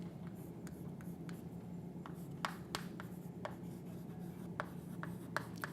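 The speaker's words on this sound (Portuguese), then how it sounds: "Vamos anotar isso aqui." Pen or pencil writing notes by hand on paper, a steady soft scratching with occasional sharper taps, quiet and close over a low background hum, with no voices.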